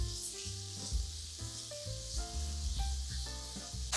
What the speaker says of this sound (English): You want this breakfast sausage to sear up nicely, to stand up to the flavor of the cream.